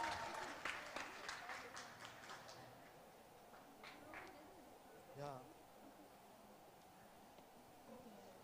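An audience applauds at a state-level financial literacy quiz prize announcement in Mizoram: a burst of clapping that fades over a few seconds under a speaking voice, followed by quieter room noise.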